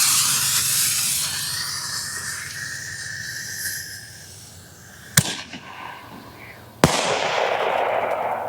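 A yellow canister firework is lit and goes off, first a long fizzing, hissing burn, then two sharp loud cracks a second or so apart, each followed by crackling.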